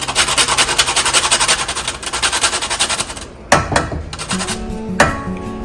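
Whole nutmeg is grated for peanut and oats porridge, making a loud, fast, rhythmic rasping of strokes. The rasping then gives way to a couple of sharp knocks and clatters.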